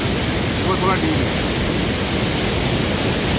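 Neer Waterfall near Rishikesh, Uttarakhand, a dense steady roar of falling water filling the whole clip, loud and close, with a brief voice faintly audible beneath it.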